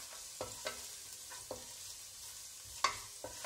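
Chopped ginger sizzles in hot coconut oil for a potato and cauliflower curry, giving a soft, steady frying hiss broken by a few sharp scrapes and taps of stirring, close by and with no talking.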